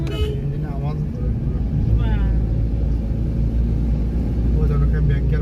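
A vehicle engine runs with a steady low rumble on a hilly road trip, continuous throughout while people talk over it.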